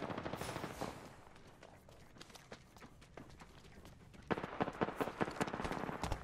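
Automatic and single gunshots from an Apex Legends match crack in rapid bursts throughout, growing louder and denser toward the end, with faint running footsteps between volleys.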